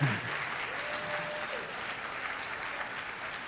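An audience at a school district address applauds in a steady, fairly quiet roomful of clapping that holds evenly for several seconds, with a brief voice fading at the start.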